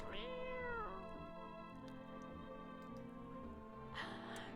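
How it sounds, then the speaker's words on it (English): A cat meows in the No, I'm Not A Human video game: two drawn-out, rising-and-falling meows, one at the start and one near the end, over a faint steady ambient hum. "You reached out and pet the cat."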